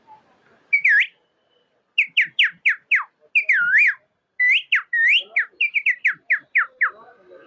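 A man whistles an imitation of a parrot, a run of sharp, rising and falling chirps in quick bursts with short pauses, close and loud, alone without talk.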